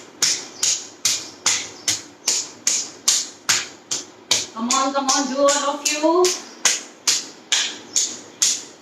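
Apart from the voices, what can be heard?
hands clapping during yoga exercise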